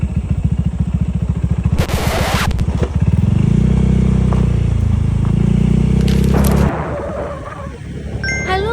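A motorcycle engine runs steadily up close, with clattering bumps and scrapes as it rides over a badly damaged road near Samarinda; the engine note shifts midway.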